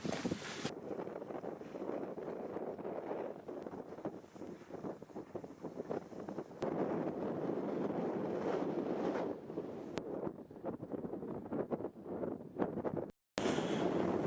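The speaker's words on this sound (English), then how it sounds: "Get out of this wind" Strong wind buffets the microphone outdoors at a wild camping spot in heavy rain, a continuous rough roar with gusts rising and falling and a brief dropout near the end.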